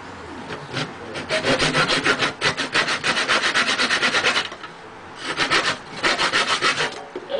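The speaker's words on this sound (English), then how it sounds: "we just finished sawing a whole square" A hand saw cuts through a square of wood in quick, rhythmic back-and-forth rasping strokes, close by, with a brief pause before the sawing resumes.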